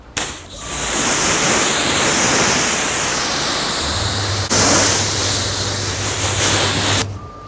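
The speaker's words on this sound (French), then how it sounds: "Là, on va rincer comme dit le constructeur" Water sprays across a car's paintwork during a rinse after applying a Meguiar's hybrid ceramic wax, a loud, continuous hissing rush lasting several seconds with one brief break.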